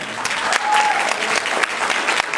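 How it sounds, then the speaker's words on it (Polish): Steady, fairly close applause from an audience at a children's song contest, Rozśpiewane Nutki 2010, with brisk overlapping claps and a few sharper individual claps standing out. "W imieniu Klaudii dziękuję za te brawa"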